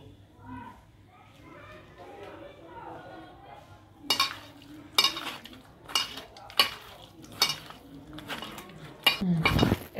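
Chicken meat is worked by hand with ginger garlic paste in a metal bowl, giving a series of sharp clinks and squelchy knocks at a steady pace. A voice talks over the start, and the clinks follow it.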